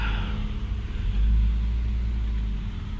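Low engine rumble from a BMW E34 520i, heard from inside the cabin, with a deep steady drone and a brief swell in revs partway through, fairly quiet and with no talking.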